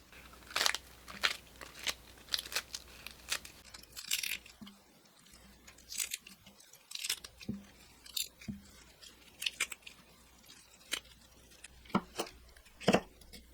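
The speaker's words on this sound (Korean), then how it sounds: "양상추와 치거리를 손으로 뜯어 한 입 크기로 만들어요." Crisp leafy tearing and crunching as lettuce and chicory are torn by hand, repeated in irregular bursts close up, with short pauses between pulls.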